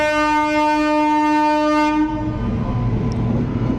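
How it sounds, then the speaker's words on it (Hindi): A train horn blares loud and steady for about two seconds at a railway crossing on a desert route in Rajasthan, then gives way to the rumble and rattle of the train rolling past close by. "So that's a train."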